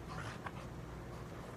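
A dog companion in the horror video game Blair Witch pants and whimpers softly at close range in a short burst, over a steady low ambient hum.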